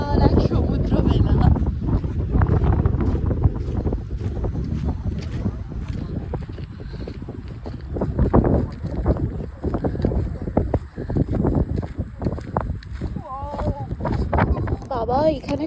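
Strong wind blows across the sea beach at Chandipur, a loud, continuous roar buffeting the microphone, with voices talking underneath and faint distant activity.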